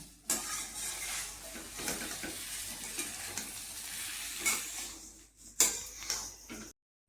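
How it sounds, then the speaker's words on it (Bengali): Beguni, battered eggplant fritters, sizzle steadily in hot oil with occasional stirring scrapes and clinks of a utensil against the pan, close and continuous, then stopping abruptly. "পাঁপড় ভাজা হয়ে গেছে, এবার বেগুনি ভাজছি"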